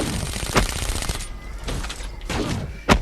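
Bursts of automatic gunfire from a weapon in Call of Duty Black Ops 3, several loud sharp volleys close by with short pauses between them, and no talking.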